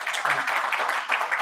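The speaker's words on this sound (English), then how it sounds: "Let us welcome him with big round of applause" Sustained applause from an audience at a formal book launch and discussion event, welcoming the chief guest; dense, steady clapping throughout with no break.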